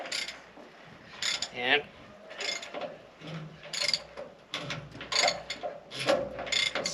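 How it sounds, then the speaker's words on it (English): A ratchet spins out big bolts on the electric motor and gearbox of a Letourneau Tournapull D scraper bowl, giving repeated bursts of rapid metallic clicking close by, with a brief spoken word. "Now we can use a ratchet"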